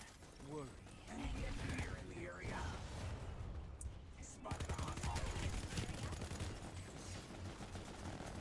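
Rapid Vulcan cannon fire in Planetside 2 keeps up a dense mechanical rattle through most of the clip, loud and continuous, with a voice speaking over it.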